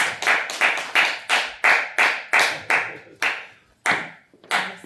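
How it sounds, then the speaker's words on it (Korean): An audience claps in unison to welcome a missionary at a church gathering. About a dozen loud, even claps ring out in a steady rhythm, each one followed by a short echo in a reverberant room. "우리 강명선 선교사님 나오실 때 박수로 환영하겠습니다"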